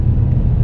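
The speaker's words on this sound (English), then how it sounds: "Don't be scared of the sound of the accelerator" Car engine revving steadily during a beginner driving lesson, a continuous low rumble held close and loud throughout the short stretch, with no talk over it.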